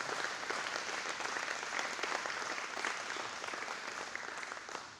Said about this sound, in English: let's just give him a big round of applause